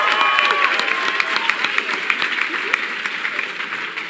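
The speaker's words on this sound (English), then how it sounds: "Big round of applause, please." Dense audience applause fills a large convention hall at a PAX Prime 2015 Twitch town hall, a steady crowd of clapping with scattered cheers, sustained throughout at moderate loudness.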